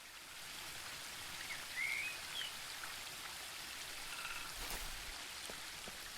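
A waterfall in The Book of Unwritten Tales 2, a steady, soft rushing wash of falling water that holds evenly throughout at a moderate distance, with no voices over it.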